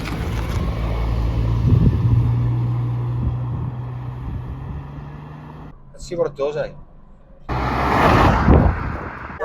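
A restored classic Jaguar XJS driving: a low, steady engine rumble under wind noise, with people talking in the car and a short break before the drone resumes.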